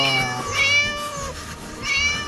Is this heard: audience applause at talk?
no